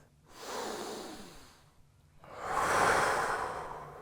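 A slow, deep breath during a morning yoga stretch: a long soft inhale, a pause, then a fuller, louder exhale, close and breathy with no talking.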